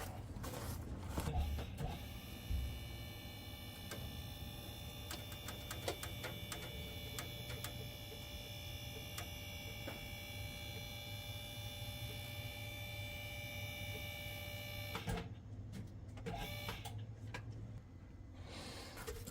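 A vehicle is lifted back up after a bump stop install, likely by a jack or lift whose motor gives a steady faint whine and hum, with scattered clicks and ticks before it stops near the end.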